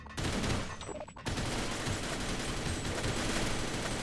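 Sustained automatic gunfire in the co-op shooter game Sven Co-op, a loud, dense barrage that cuts in after a brief quieter moment and keeps rattling continuously to the end.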